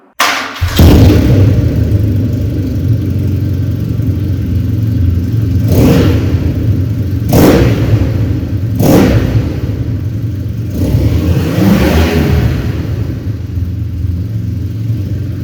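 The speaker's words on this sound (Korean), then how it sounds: "그러면 머플러 사운드 한번 들어보도록 할게요" 2018 BMW R nineT Scrambler with a 1200cc engine and 719 options, idling loudly up close with a steady exhaust burble, punctuated by four sharp throttle blips that rise and quickly fall back.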